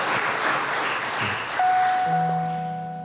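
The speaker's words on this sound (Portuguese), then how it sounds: "Dá uma salva de palmas ao Senhor" Congregation applauding during a Sunday church service, a dense wash of clapping that fades out as a sustained organ or keyboard tone enters and holds beneath it.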